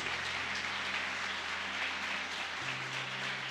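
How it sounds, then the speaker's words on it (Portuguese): A church congregation applauds during a men's congress sermon, a steady, dense wash of clapping that holds evenly throughout with a low hum beneath. "Você pode aplaudir ao Senhor Jesus?"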